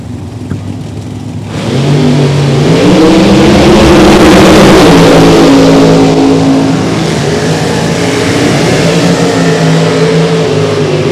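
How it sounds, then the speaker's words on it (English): A Hemi-powered supercharged drag racing car roars loudly, its engine rising in pitch as it revs and pulls away, then holding a sustained, harsh blown drone. "Hemi powered blown machine left side"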